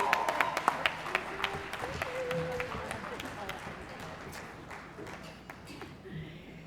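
Applause for award winners at a gala awards dinner rings out from the audience, strongest at first and gradually thinning out as the clapping fades.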